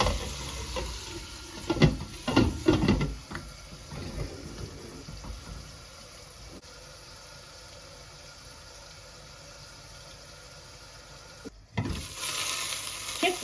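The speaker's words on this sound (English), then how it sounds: "We'll simmer it for a few more minutes and it will be ready." Chicken breast simmering in a pan and stirred: a few scraping, clattering bursts of stirring come first, then a steady, soft bubbling sizzle that fills the rest, briefly cutting out before resuming.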